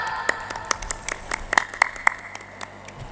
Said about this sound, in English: Keep on clapping, audience.